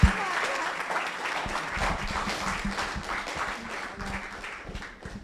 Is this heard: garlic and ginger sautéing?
no